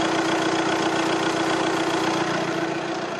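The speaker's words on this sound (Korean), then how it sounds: "엔진 소음 먼저 들려드리면은" A 2.0 TDI diesel engine in an Audi A6 idles with the hood open, a steady close drone with a low, even diesel clatter, heard alone at constant volume.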